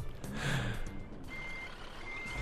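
Steady, evenly spaced reversing beeps from a Scania truck in a driving simulator game, fairly loud, with a brief hiss and engine rumble beneath the first beeps.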